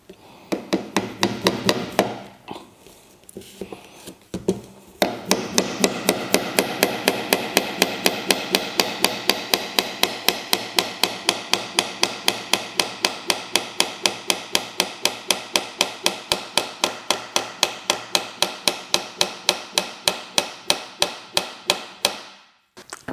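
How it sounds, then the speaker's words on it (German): A nail is hammered carefully into wood while fitting a glass strip on a maple cabinet. After a few first taps comes a long, steady run of sharp, close hammer blows, one after another, under no talk. "Setzt jetzt den Nagel ein und schlagt ihn vorsichtig ins Holz."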